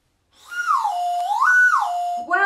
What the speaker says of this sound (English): it's the slide whistle